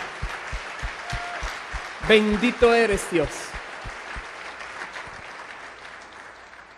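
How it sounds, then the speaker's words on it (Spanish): A church congregation claps steadily in rhythmic applause while a preacher speaks over it midway, the clapping continuing and fading toward the end. "Dale un fuerte aplauso al Señor."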